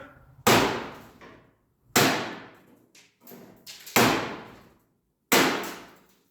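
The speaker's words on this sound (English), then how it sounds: "use the appropriate tool for the job. Screwdriver and a hammer." Five sharp metallic strikes of a hammer on a screwdriver knocking out rivets ring out at irregular intervals, each blow followed by a brief decaying clang, close and loud.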